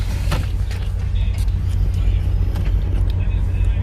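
A truck pulls into a loading area, its engine a steady, close, low rumble that holds throughout, with faint higher clatter and hiss scattered on top.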